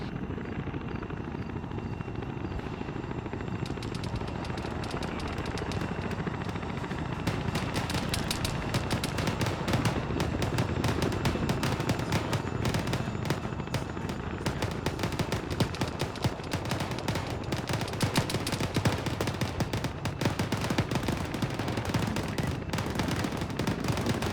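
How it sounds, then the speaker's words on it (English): Suppressing fire in a military video game during a squad field training exercise: steady, crackling volleys of automatic gunfire layered over the continuous roar of a helicopter, sustained and loud throughout. "All elements put out suppressing fire for Phoenix."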